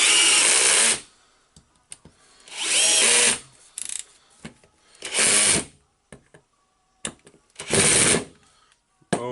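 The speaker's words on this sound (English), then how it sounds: "I can screw the screws in" Power screwdriver driving screws into the housing of a Makita HR2811FT rotary hammer drill during repair: four loud, close whirring bursts, each about a second long, separated by quiet gaps with small clicks and handling noises.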